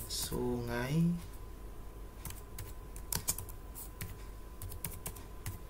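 Typing on a computer keyboard during school data entry, a scatter of light clicking keystrokes in short bursts after a brief voice, moderately close and fairly quiet.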